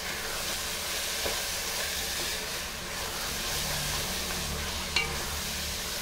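Chicken mince with crushed fenugreek leaves being stirred in a hot pan, a steady low sizzle and scraping hiss running throughout with a couple of brief utensil knocks.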